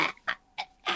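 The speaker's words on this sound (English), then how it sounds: "and then I start coughing" A quick series of four short, sharp coughs, close and fairly quiet, evenly spaced within a second.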